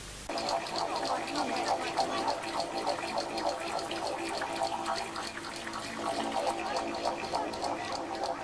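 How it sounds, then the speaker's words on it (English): A small waterfall trickles into a rock pool beneath a sandstone overhang, a steady close splashing and bubbling wash of water running continuously and fairly loud throughout. "At the end you'll find a small waterfall trickling into a rock pool."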